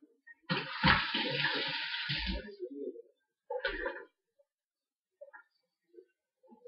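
Tap water running while hands are washed, splashing in a couple of bursts and then stopping, with a few small drips and clinks afterward.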